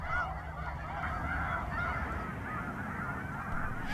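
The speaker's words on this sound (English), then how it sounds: "I can see that the snow geese and the ducks around them are restless" Snow geese at Roberts Bank on the Salish Sea honk in a dense, continuous chorus, many overlapping calls at a moderate distance, with ducks nearby and no talking.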